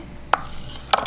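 A knife cuts through pork neck into small quarter-inch slices, giving two sharp, separate chops against a cutting board about half a second apart, close and clear with no talking.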